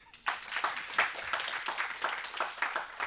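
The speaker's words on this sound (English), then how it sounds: "Applause." Modest applause from a conference audience, with distinct individual claps audible in an uneven rhythm, fairly quiet and close.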